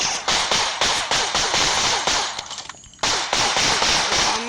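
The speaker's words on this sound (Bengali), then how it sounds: "কে গুলি করে?" Rapid gunfire from a video game police fight, sharp repeated shots in fast bursts at close range, with a brief pause before the shooting resumes just as loud.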